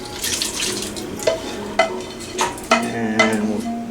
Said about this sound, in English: the veggies that we just got finished sauteing are going to go in this pot right here, where we just put all this broth